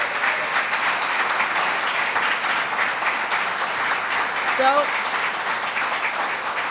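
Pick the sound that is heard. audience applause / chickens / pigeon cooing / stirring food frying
audience applause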